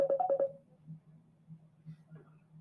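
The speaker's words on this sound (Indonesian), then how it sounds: "Ada telepon dari Pak Fuad." A telephone signals an incoming call with a short burst of bright electronic ring tones at the start, followed by a low steady hum with faint murmuring voices behind it.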